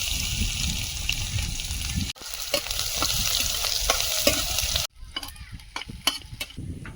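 Crushed garlic and dried red chillies sizzle in hot oil in a kadai, a loud, close crackling fry broken by stirring scrapes and two abrupt cuts in the sound.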